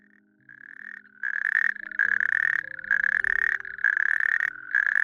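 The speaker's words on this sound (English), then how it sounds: "the call of a natterjack toad" A steady, loud rattling trill from a toad repeats in long bursts with short gaps, nearby, with other faint croaks beneath.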